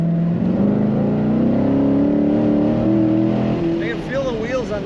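A 2018 Chevrolet Corvette Grand Sport coupe driven hard through corners: a loud, close engine drone rising in pitch, with road noise, while a person talks over it near the end.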